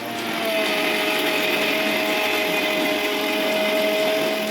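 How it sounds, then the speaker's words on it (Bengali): An electric Bengali mixer grinder whirs steadily as it grinds spices, a loud, continuous close-up motor drone with no pauses and no voices. "মশলাগুলো আমাদের বাংলা মিক্সিতে দিয়ে বেটে নিতে হবে।"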